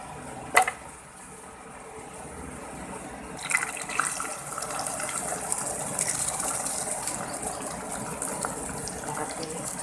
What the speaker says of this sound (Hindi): इसमें मैं डालूँगी घी